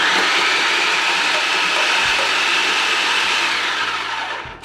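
A block of cheese drops into a running food processor and is broken up, heard as a loud, steady whirring roar with some rattling knocks, tapering off near the end.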